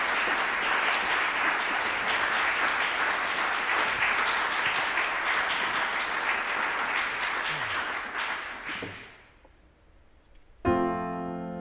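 Sustained applause from a concert audience welcoming a singer at an outdoor villa music evening, dense and steady for several seconds before fading out, followed by a brief burst of sound at the end.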